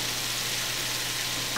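Spiralized zucchini noodles sauté in a hot pan, giving off a dense, even sizzle that stays steady and close throughout the brief moment, with no speech.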